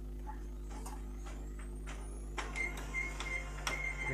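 A Canon imageRUNNER copier pulling paper in from the manual feed tray after a clutch replacement, a steady machine hum under a series of light mechanical clicks and ticks, with the feed action louder toward the end.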